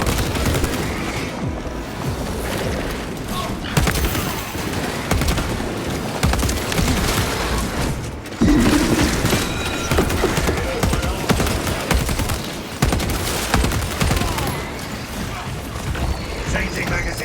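Gunfire volleys in Space Marine 2 crack out in rapid bursts and single heavy shots, with booms and crashes over several seconds as a voice talks through the action.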